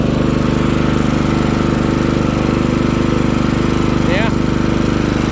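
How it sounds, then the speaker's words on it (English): A Craftsman LT1000 riding lawn mower engine runs with a loud, steady, close drone and rapid rhythmic pulsing throughout, with a brief faint chirp near the end. "It is a pretty fast mower and you put it into 6th."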